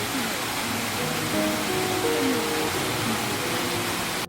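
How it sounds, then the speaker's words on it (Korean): Yeogung waterfall on Juheulsan mountain in Mungyeong, South Korea, gives a steady, even rush of falling water that holds its level throughout and stops abruptly at the end, with no voices. "여궁폭포의 모습."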